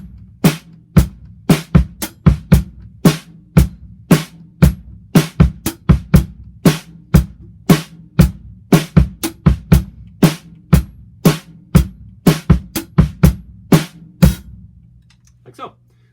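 Drum kit playing an odd-meter groove in 7/4 time, with sharp, loud snare and cymbal hits over a steady low kick-and-bass pattern, repeating evenly for the whole stretch with no talking.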